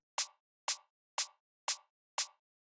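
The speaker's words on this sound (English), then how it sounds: "It's just a little shaker sample" A soft shaker percussion sample plays on the upbeats: five short, crisp, evenly spaced shakes, quiet and alone.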